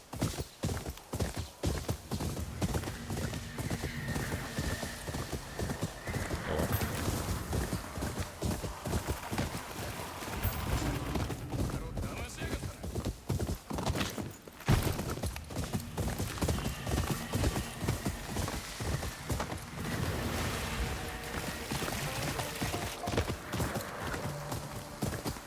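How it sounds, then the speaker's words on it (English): A horse gallops steadily in the video game Ghost of Yōtei, its hooves beating a fast, continuous clip-clop rhythm across the whole stretch, with an occasional whinny mixed in. "Also, I just took the wrong horse."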